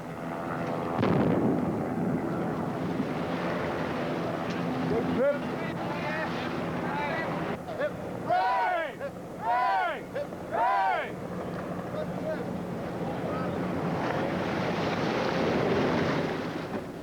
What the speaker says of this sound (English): the yachts gather speed